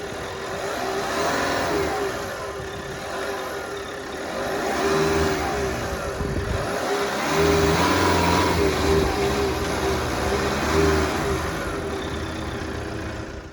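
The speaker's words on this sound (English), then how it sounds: "Just listen to that engine." An LDV T60 Max Pro ute's 2-litre twin-turbocharged four-cylinder diesel revs up and settles in steady, fairly loud swells, running alone with no talk.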